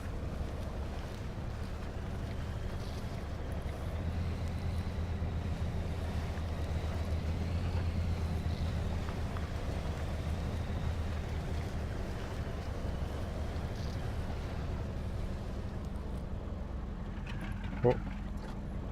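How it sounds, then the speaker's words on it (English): A truck engine in low gear in the off-road game Spintires: MudRunner makes a steady, low, droning rumble that runs unbroken and fairly faint, with a short sharp click near the end. "All right, I'm gonna low gear this."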